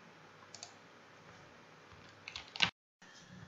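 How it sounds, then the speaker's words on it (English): A computer mouse clicks on a button, a faint tick followed by a sharper, louder click, then a brief silence and quiet room noise. "let's just click on the OK button and let's play again our virtual machine"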